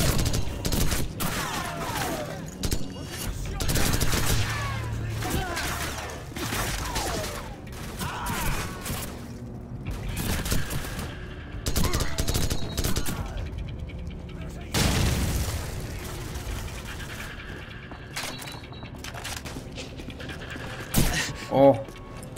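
Gunfire crackles through a Call of Duty 4: Modern Warfare firefight on veteran difficulty, with bursts of shots, booms and a closing enemy pistol report, loud and irregular, mixed with game effects and a voice talking.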